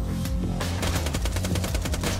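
Rapid automatic gunfire in the Borderlands 2 video game, a fast, loud, evenly spaced stream of shots rattling close up for a couple of seconds without pause.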